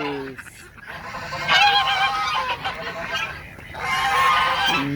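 A goose honks repeatedly in a series of loud, nasal calls in a backyard bird area, with short bursts and pauses.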